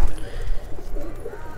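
A Lalband Chandna pigeon gives a short, soft coo under a voice, heard close up in a brief moment.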